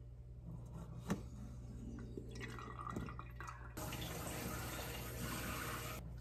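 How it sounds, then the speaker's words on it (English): Coffee is poured from a French press: a soft trickle and drip of liquid at close range, quiet, with no voices. "I am excited to pour my coffee out of this fancy looking thing"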